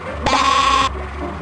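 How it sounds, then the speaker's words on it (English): A single sheep bleats in the video game Spy Fox 2, a clear, wavering cry of about half a second that is close and fairly loud, followed by quiet. "Stereo sheep."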